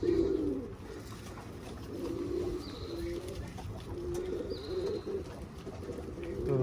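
Pigeons coo softly outdoors in a steady low murmur, with occasional wing flaps and faint bird calls from a small flock let out of their loft.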